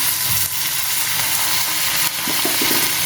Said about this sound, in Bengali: এই যে মশলা ধোয়া জলটা গরম জলটা এটা আমি দিয়ে দিচ্ছি এটার মধ্যে